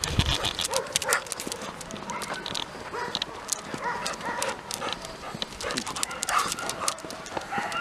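A dog moving and panting close by amid busy outdoor noise, with faint hoof-like clopping and occasional soft whimpers; no clear barking.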